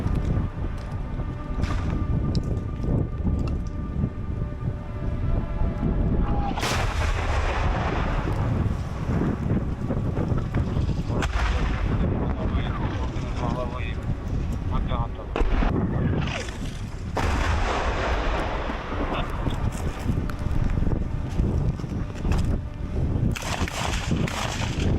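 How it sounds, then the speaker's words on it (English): Russian artillery shelling on a Ukrainian front line, with a few heavy, sharp-edged booms breaking through constant loud wind buffeting on the microphone. "The Russians are shelling the incoming vehicle."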